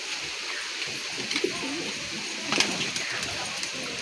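A Kaldama pigeon gives a few low cooing notes against steady outdoor background noise. A couple of sharper clicks or taps break in partway through.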